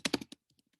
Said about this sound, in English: Let me type that down.